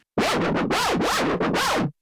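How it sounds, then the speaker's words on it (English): Vinyl record scratching emulated in Ableton Live, with three or four sweeping back-and-forth strokes in a steady rhythm, loud and close with no talking. "emulate me going forwards and backwards on a record"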